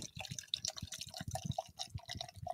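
Beer poured into a glass gurgles and splashes up close, with a scatter of small drips and trickles and no voices.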